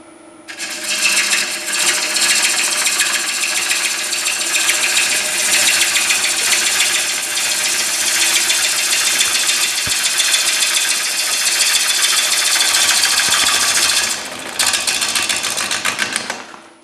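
A large wooden bowl spins on a STRATOS XL wood lathe while a tool cuts it, giving a steady loud broadband hiss with a low whir that runs unbroken for about fourteen seconds, then drops briefly and resumes.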